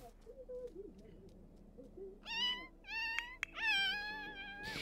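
A Sims 4 cat lets out several rising, wavering meows in quick succession, fairly close and moderately loud, after a stretch of quieter murmuring sounds.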